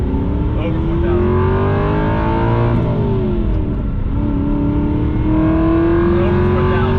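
An Aston Martin V8 Vantage engine revving hard above 4,000 RPM, a loud, continuous rising and falling roar heard from inside the car while driving.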